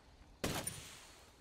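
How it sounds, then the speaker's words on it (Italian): A single short burst of gunfire aimed at car tires in the video game Ghost Recon Wildlands, a sharp crack with a brief echoing tail over quiet background. "Ecco, spari alle gomme,"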